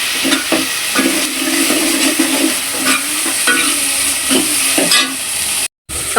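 Onions frying in a pan for kantola curry, a steady loud sizzle with repeated scraping stir strokes throughout and a brief dropout near the end; no talking.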